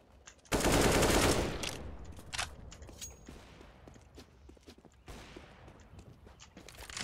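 Rifle gunfire in Counter-Strike: Global Offensive, a loud sustained automatic burst at the start that emptys a magazine, followed by quieter scattered shots, footsteps and game noise.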